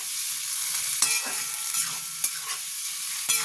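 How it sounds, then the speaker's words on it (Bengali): Prawns fry in a pan, not browned much, cooking down their released water: a steady close sizzle with occasional sharp clinks and scrapes of stirring, no voices. "আমি চিংড়ি মাছটা বেশি লাল করে ভাজবো না,"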